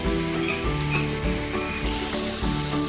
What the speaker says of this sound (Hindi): हमारे प्याज हल्के हल्के ब्राउन होने शुरू हो गए हैं।